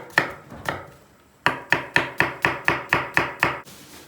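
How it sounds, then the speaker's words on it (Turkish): Sharp knife chops on a cutting board, chopping onion: two spaced strikes, then a quick steady run of about nine even chops, close and crisp. "Önce soğanını doğrayalım."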